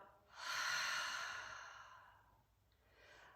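A deep breath drawn in and let out during a gentle chair yoga session: one long, airy exhale that swells and then fades, followed by a fainter second breath, close to the microphone with no talking.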